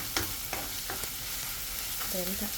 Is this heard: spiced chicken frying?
yes